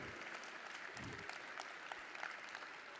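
Faint, continuous clapping as an audience applauds young participants after a performance, with scattered claps rising above a quiet, distant hall ambience.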